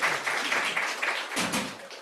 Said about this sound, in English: Short round of applause for Ms.